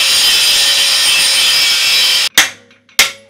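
Metal sheet being cut for a retro police car build: harsh, continuous high-pitched cutting noise runs steadily, then stops abruptly, followed by two sharp metallic clanks ringing out briefly.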